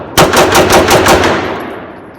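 A Taurus PT1911 pistol fired rapidly during a heavy torture test, a loud close burst of about eight fast shots in an even rhythm, followed by a ringing decay and no talk.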